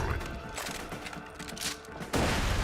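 Shotgun fire in the video game Borderlands 2, a dense burst of blasts and crashing impacts with a louder blast near the end, under faint game noise.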